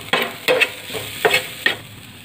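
Chana dal filling being stirred with salt, red chilli powder and turmeric in a pan: five or six distinct spoon scrapes at a steady, unhurried rhythm, close and fairly loud over a soft sizzle.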